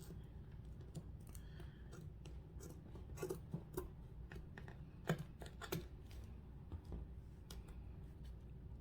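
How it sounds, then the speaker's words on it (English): Scissors or a cutting tool snipping through material for a handmade DIY front porch sign, giving quiet, irregular clicks and crisp snips close by over a faint background. "This should be an easier process to cut. Just cut right here."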